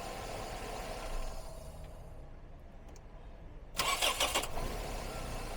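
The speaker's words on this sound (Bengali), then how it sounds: "টোকায় টোকায় স্টার্ট বন্ধ করে আবার একটু দিয়েন তো" A 1999 Toyota Corona Premio petrol engine cranks briefly and catches, then settles into a steady idle. The start is close and clearly audible, with no talking.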